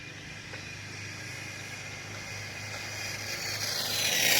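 A HoBao VT RC car with its first mod rips along a street at top speed, a steady high-pitched motor whine and tire rush building louder toward the end, with no talk over it.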